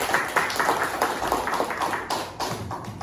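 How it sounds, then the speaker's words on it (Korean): Seminar audience clapping, scattered and uneven with distinct hand taps standing out rather than a full roar, moderate in level and continuing throughout. "여러분 박수로 집중을 한번 하도록 하겠습니다"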